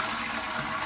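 A toilet flushes in a brief, close burst of rushing water, heard alone without any talk.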